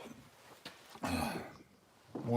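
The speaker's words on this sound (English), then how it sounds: "Sorry about the cough." A single rough cough bursts out close, followed by a short throat-clearing rasp, in a quiet indoor space.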